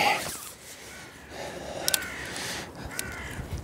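Crows caw outdoors in a few harsh calls, mid-distance and moderately loud, over steady wind and background rustle.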